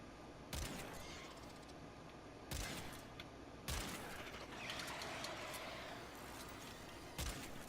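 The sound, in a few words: Euphona Prime shotgun buckshot firing in video game Warframe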